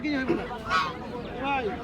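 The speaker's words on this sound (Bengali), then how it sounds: "অনেক সুন্দর কিছু রাজহাঁস নিয়ে আসেন" Large geese, each about six kilograms, give a few nasal honks at a duck and chicken market in Fatullah, Bangladesh, close by and mixed with people talking.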